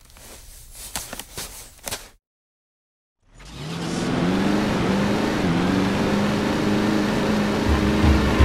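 A vehicle driving in the video game Jak 3, a continuous loud engine drone with a sustained low hum after a short gap of silence, preceded by a few sharp thuds.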